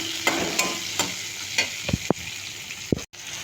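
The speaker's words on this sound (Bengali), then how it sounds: "এবার পেঁয়াজটা দিয়ে ভালো করে পেঁয়াজটাকে ভেজে নেব।" Chopped onions frying in a pan, a soft sizzle under repeated stirring scrapes and a few sharp clinks of a utensil against the pan, close and fairly quiet.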